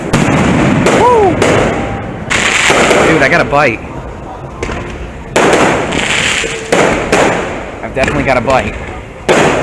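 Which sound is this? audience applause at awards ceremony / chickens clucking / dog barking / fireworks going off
fireworks going off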